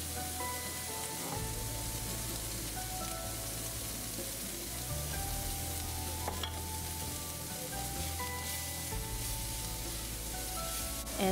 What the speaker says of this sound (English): So here in my wok pan, I will be frying my rice. And first of all, I will put in some diced celery, some frozen peas, and some chopped onion.